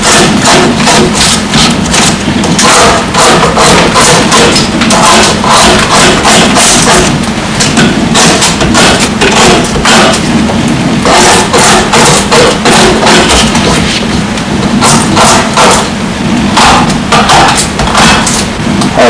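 Excess wood is carved away from an old block with repeated loud, close knocks and chops in a fairly steady rhythm, each strike a sharp thud, continuing throughout with no voices.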